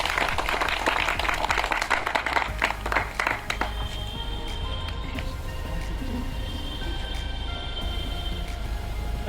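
An audience claps to welcome Father Morris at a gathering in a hall, with dense applause for the first few seconds that thins out, leaving a steady room hum.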